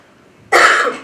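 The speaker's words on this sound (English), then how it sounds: "sorry, I have a bad cough" A single sharp cough bursts out after a half second of quiet, loud and close, trailing off over the remaining moment.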